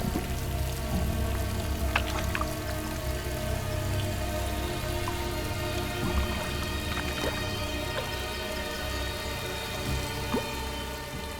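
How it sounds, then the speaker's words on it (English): Steady rainfall patters on a surface along the Limpopo River, with scattered louder drips, a dense continuous hiss at moderate volume, no voices. "As the rain subsides"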